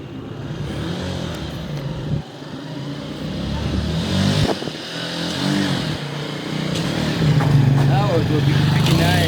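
Motorcycles move along a busy street, their engines humming and revving under steady traffic noise that grows a little louder near the end, with voices faintly present in the background.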